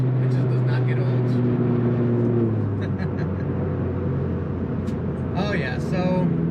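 Honda Civic Type R FK8 pulling hard in second gear, a steady loud engine drone rising in pitch from inside the car, with someone talking over it.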